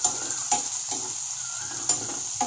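Chopped garlic, green chili and onion frying in a pan, a steady sizzle broken by a few scraping stirs of a spoon at irregular intervals, close and without talk.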